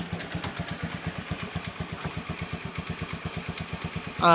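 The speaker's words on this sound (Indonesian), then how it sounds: "Oke, motor ini sudah bisa hidup guys ya" A carbureted Honda Beat scooter engine, starved of oil after a late oil change, idles right after starting with a steady, rapid, close thumping putter, then rises sharply in level at the very end.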